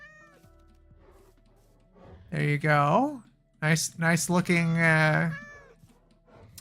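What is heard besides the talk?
cat meowing in Minecraft video game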